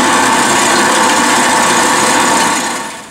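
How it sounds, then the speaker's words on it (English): A small bandsaw grinds steadily through metal, a loud continuous buzzing rasp that holds even and then tapers off at the end. "so I'll chop the last piece on the little saw."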